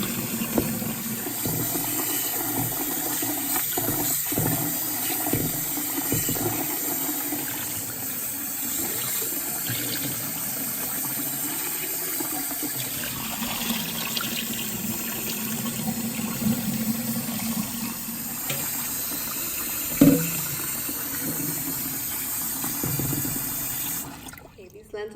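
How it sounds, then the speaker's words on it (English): Water runs from a tap while mung dal lentils are washed in a bowl, a faint steady splashing with occasional swishes and light clinks, a voice speaking over it. "make sure that the water comes out clear when you wash them"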